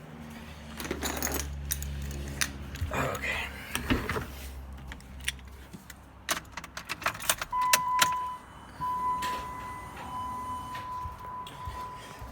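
Car keys being dug out and jangling near a Jeep Wrangler during a halo DRL and amber blinker install, a series of close metallic clinks and rattles, with a brief steady tone near the end and a short spoken word.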